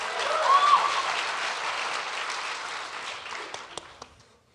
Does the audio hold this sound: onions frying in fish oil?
no